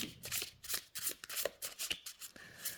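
Pocket oracle cards being shuffled and drawn: a quick run of soft, papery riffles and slides, close and fairly quiet, with no voices.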